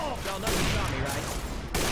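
Rapid, continuous gunfire rattles in Left 4 Dead 2, a dense fusillade of overlapping shots with short pauses between bursts, fairly close and steady throughout.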